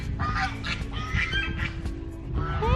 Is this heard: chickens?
yes